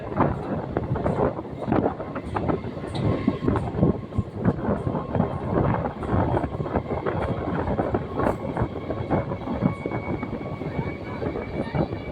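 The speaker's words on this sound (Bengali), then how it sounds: "এখন ট্রেন ক্রস করছে কাস্টাপাড়া কারখানা গেট" A train passes the Eastern Railway workshop gate at Kanchrapara on the Ranaghat to Naihati line, a steady broadband rumble and clatter that stays loud and constant throughout, with wind buffeting the microphone.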